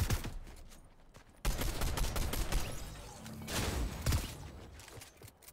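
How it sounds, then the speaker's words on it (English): Fortnite gunfight with shotgun fire: loud shots and bursts in quick succession over a steady game soundscape, with no clear speech. "Oh my god, he got a shotgun."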